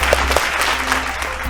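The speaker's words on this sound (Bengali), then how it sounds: "জোরে হাততালি সবাই।" A studio audience on a Bengali family game show bursts into brief, loud applause, a close crowd of clapping hands over a steady low hum, with no talking over it.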